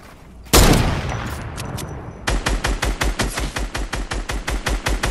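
Fortnite Battle Royale gunfire: one loud close blast with a decaying tail, then a steady rapid string of evenly spaced automatic shots, punchy and near, with no talk over it.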